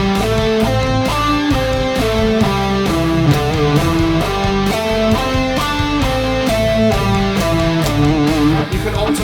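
An electric guitar plays the minor pentatonic scale in shape 3, steady quarter notes over a loud classic rock backing track with driving drums, each note clearly picked.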